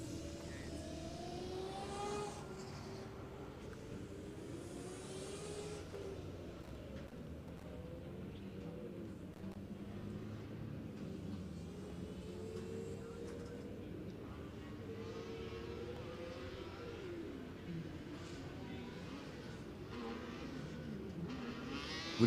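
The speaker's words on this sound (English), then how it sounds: "we can actually hear the front wing and also the engine sounds. Yeah, when the car is passing by the stage." A Formula Student race car passes along the back straight during an endurance session, its buzzing engine note rising and falling at a distance under a faint, continuous background hum.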